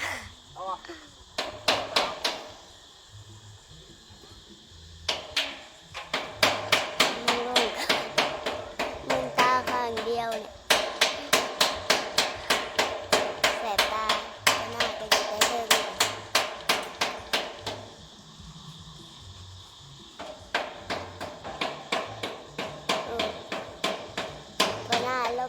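A man drives nails with a hammer at a work site, a long series of sharp, ringing strikes in rapid rhythmic bursts with short pauses between them. A voice sings or talks over the blows.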